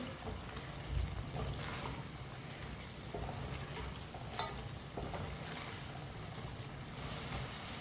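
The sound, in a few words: chicken cooking in pan, stirred with spoon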